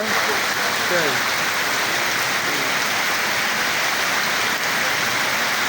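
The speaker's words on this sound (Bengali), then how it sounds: "শীতকালের বৃষ্টি" Winter rain falls steadily and fairly close, a dense unbroken hiss with no pauses and a brief faint voice near the start.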